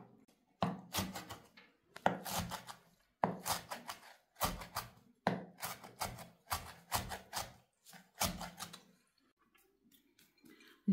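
A knife finely chops parsley on a board in quick bursts of rhythmic taps, pausing briefly between runs, close and clear, then it stops.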